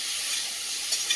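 Taro and potato frying in hot oil for a rohu fish curry, a steady broadband sizzle with a couple of brief crackles near the end, no voices.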